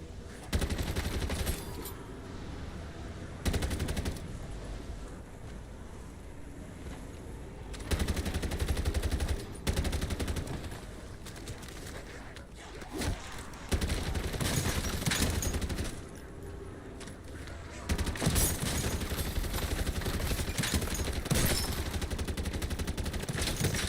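Automatic sentry gun fire in MW3 Zombies, rapid machine-gun bursts in several stretches separated by quieter gaps, loud and close, with no talk.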